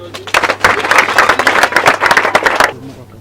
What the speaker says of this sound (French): Voilà, applaudissez.